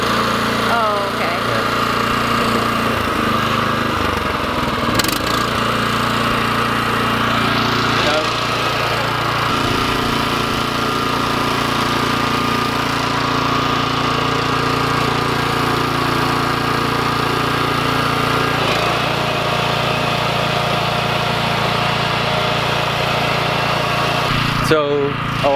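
BCS walk-behind two-wheel tractor running with the throttle opened up on a farm, a steady loud engine drone that continues throughout, with people talking briefly over it.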